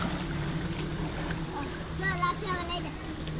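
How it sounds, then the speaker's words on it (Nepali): Rukse waterfall in Mustang, Nepal, sends up a steady wash of splashing water with a low rumble beneath, while people speak faintly nearby. "रुक्सेको झरनामा आइपुगेका छौँ"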